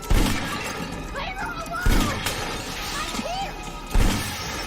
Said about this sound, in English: Kate then breaks the glass roof, crashing it onto Esther before she can hurt Max.